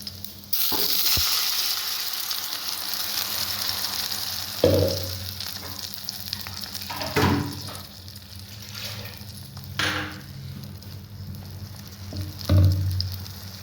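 Fulori fry with masala in a pan, a continuous moderate sizzle broken by several sharper bursts and stirring clatters as ingredients hit the hot oil.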